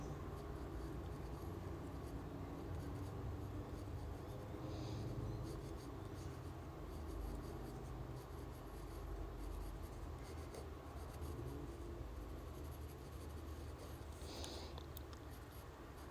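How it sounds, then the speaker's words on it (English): A pen or pencil scratches on paper while Pikmin characters are being drawn, a soft, close, continuous scribbling over a low background hum. "So I think I'm going to draw another little Pikmin here."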